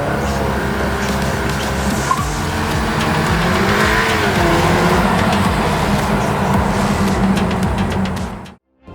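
A Cupra Ateca drives hard with a steady, loud engine note and road roar throughout, brief tire noise mid-way, then the sound cuts off abruptly near the end.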